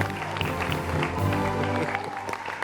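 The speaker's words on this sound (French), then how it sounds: "On va applaudir pour la voisine de Perpignan." A studio crowd claps in a continuous burst of applause, mixed with a murmur of voices and some music underneath.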